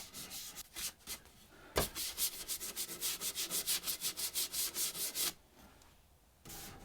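Wax is buffed onto a metal industrial lamp by hand. A close, rhythmic series of quick rubbing strokes, about twenty in a steady run, follows a few scattered rubs and ends in quiet.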